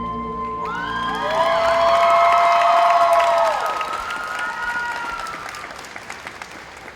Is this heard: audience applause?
yes